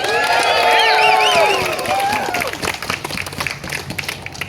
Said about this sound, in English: Give yourselves a round of applause for showing up today